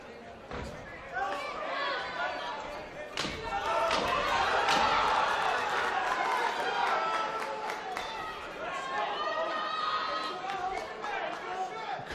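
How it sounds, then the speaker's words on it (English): Boxing arena crowd at a live fight, a constant roar of chatter and shouting with sharp slams and thuds breaking through, a commentator's voice running over the top. "The crowd still making a lot of noise here"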